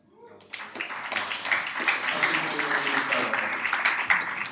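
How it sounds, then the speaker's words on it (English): An audience at a Startup Grind talk in San Francisco breaks into a big round of applause, clapping rising quickly and holding steady and dense throughout. "So I want to just give Denise a big round of applause."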